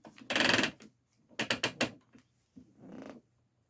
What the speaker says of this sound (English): now we're going to loosen our top bar, bring it down